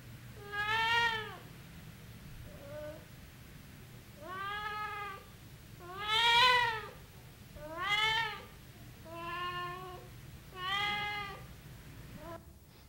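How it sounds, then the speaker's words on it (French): A cat meows in an old 1970 interview recording, six or seven drawn-out, wavering meows spaced a second or two apart, fairly close and alone over a low hum. "Vous avez entendu le début de l'interview avec un chat qui date donc de 1970"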